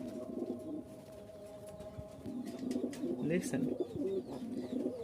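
Giribaz pigeons coo in soft, repeated throaty bursts at a pigeon market in Mirpur-1, Dhaka, with someone talking quietly nearby and faint bird chirps above.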